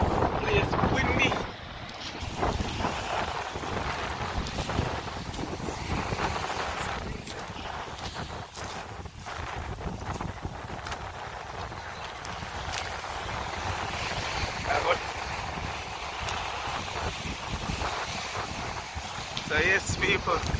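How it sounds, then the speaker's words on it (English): Steady wind buffets the microphone at a beach, a constant roaring rush filling the whole recording with occasional stronger gusts, while a voice talks intermittently underneath. "Place windy."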